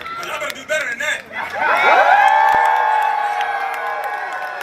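A rally crowd erupts into cheering and applause for a speaker, whoops and shouts swelling into a sustained roar of voices and clapping after a brief voice at the start.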